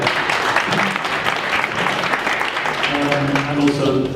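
A room full of people at a book launch gives a loud, sustained round of applause for the book editor, dense even clapping throughout, with voices rising under it toward the end.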